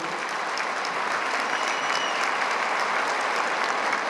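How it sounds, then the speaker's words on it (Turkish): An audience at a Turkish classical music concert gives a choir and its teachers a dense, steady round of applause, sustained and even from start to finish. "özellikle de koroyu, öğretmenlerimizi bir kez daha alkışlamanızı rica ediyorum"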